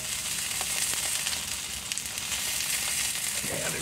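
A thick chunk of smoke-flavored bologna frying in a pan, giving a steady, dense sizzle that crackles continuously throughout at close range, with no talking.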